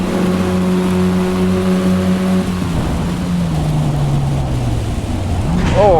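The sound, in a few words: race car engines (Ford Focus, Escort, Honda) in Assetto Corsa Evo video game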